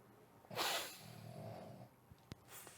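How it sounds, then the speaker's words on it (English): A pet dog snores loudly nearby, one long rasping snort-like breath followed by quieter breathing and a couple of sharp clicks, with no talking. "The dog is snoring very loud."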